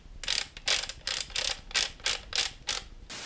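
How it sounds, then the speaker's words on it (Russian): The zoom mechanism of a 100 W handheld spotlight whirs loudly in about eight repeated bursts, a close, raspy motor buzz with short pauses between. "Зум вот громкий."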